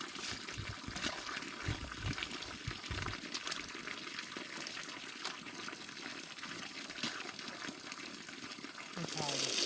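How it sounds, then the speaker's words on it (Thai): Water runs and splashes steadily while bamboo shoots are peeled and washed outdoors in the forest, a broadband wash of liquid sound that continues throughout, with talk over it. "มันจะเอาสิล้างหน่อไม้อยู่นี่แหละเอาสิปอกหน่อไม้"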